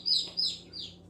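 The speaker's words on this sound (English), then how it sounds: "These are the bigger baby turkeys." Baby turkeys give three short high chirps in quick succession, close and clear over a quiet background.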